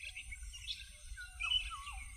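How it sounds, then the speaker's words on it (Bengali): Faint dawn birds calling at a distance, a few thin chirps and a rising-falling whistled call over a low rumbling background. "কানে আসছে ভোরের পাখিদের ডাক"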